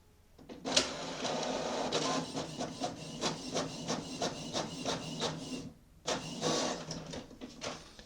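A Canon Pixma TR8620a inkjet printer prints a page, its carriage clattering in a rapid series of mechanical clicks and whirs, pausing briefly before the feed starts again, close and fairly loud with no talk.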